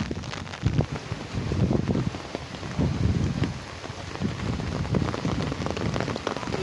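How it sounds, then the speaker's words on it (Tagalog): Rain patters steadily on a surface nearby, with irregular bursts of heavier drops and gusty rumbles against the microphone; no voices. "Diyan na naman ang ulan."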